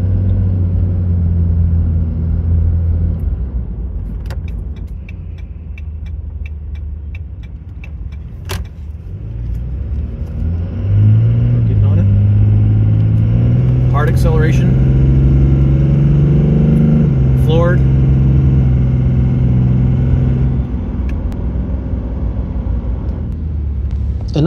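Cummins diesel truck engine under moderate acceleration, a loud low drone that climbs steadily in pitch from inside the cab, with faint clicks.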